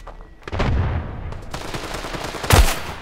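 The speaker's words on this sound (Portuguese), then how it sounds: "Um tiro, boa." Bursts of gunfire in the video game Standoff 2 crack out in quick succession, with a loud shot standing out near the end.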